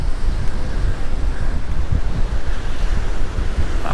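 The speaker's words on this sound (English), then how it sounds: "This is really strong winds now." Strong wind buffets the microphone over rough, crashing sea waves at Palmanova, Mallorca, a loud continuous roar with no talking.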